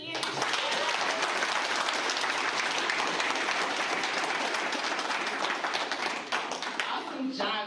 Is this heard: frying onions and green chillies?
no